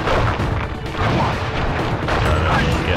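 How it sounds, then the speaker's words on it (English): A firework attack explodes in the Sly Cooper video game, a loud, dense roar of booming blasts that fills the whole stretch without a pause. "I will send you to your doom with the beauty of my new firework technique, Flame Fu"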